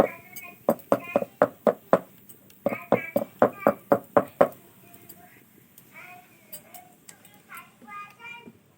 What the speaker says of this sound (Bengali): এভাবে একটু ঠুকে ঠুকে সেট করে নেবো